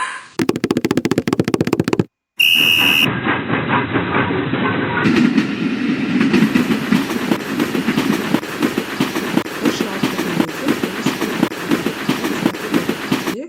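Train sound effect in a gamified educational quiz, signalling a wrong answer: a steady clickety-clack of rolling railcar wheels, loud and continuous after a brief break, with no talking.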